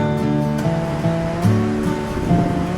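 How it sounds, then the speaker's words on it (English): Waves on Lake Michigan roar in a steady, loud wash with gentle swells of intensity, accompanied by a faint droning hum. "Roaring waves of Lake Michigan"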